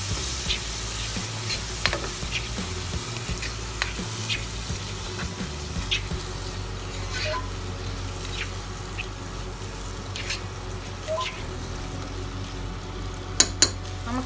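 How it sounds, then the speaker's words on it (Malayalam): Masala powder being stirred into a frying pan for chicken kabsa, with a steady sizzle and frequent scraping strokes of a spoon against the pan, close and continuous without talk. "മസാലപ്പൊടി ചേർത്ത് ഒന്ന് ഇളക്കിയിട്ട്"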